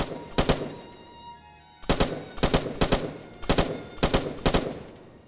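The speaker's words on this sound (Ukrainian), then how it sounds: "Значить ти стріляєш в якомусь приміщенні" Bursts of rapid G3 rifle gunfire indoors in the video game Afterconflict, first a single short volley then several quick bursts in a row, loud and sharp with brief gaps between.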